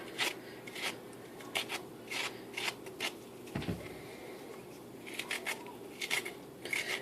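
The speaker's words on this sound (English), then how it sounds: "You just dig your spoon in and just scrape the seeds out." A small baby spoon scrapes the seeds out of a cucumber in repeated short, close, moderately quiet rasping strokes in an otherwise quiet kitchen.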